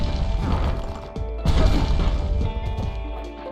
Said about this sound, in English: Just smashing the statues